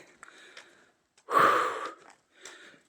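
Panting breath in the cold, a few faint, short breaths around one heavier, rasping exhale in the middle, close to the microphone with quiet gaps between.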